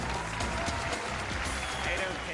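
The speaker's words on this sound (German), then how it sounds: "Hier ist der Applaus für Paige." A live audience applauds at a David Copperfield magic show, a dense, continuous wash of clapping filling the whole moment at an even level.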